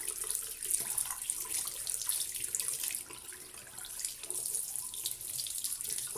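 A faucet runs water steadily into a sink to flush out buildup, a continuous close hissing splash with no voices.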